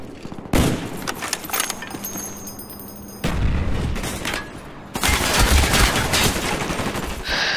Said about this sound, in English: AK-74, I forgot about that gun.